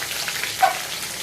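Curry leaves, plenty of green chilli, ginger and garlic, plus a little onion, all added at once to hot oil, giving a soft, steady frying hiss with one brief brighter crackle midway and no talking.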